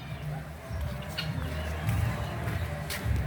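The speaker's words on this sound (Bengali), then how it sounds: "এই দেখুন তিতি মুরগি, একে তিতি মুরগি বলা হয়" Guinea fowl give repeated harsh, clucking calls in quick succession, moderately close, over an outdoor background hum.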